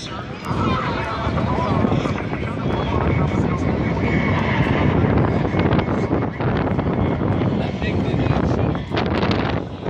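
A Harrier jet roars steadily overhead at an air show in Pittsburgh on an overcast, windy day, a loud broad rush mixed with gusty wind buffeting the microphone.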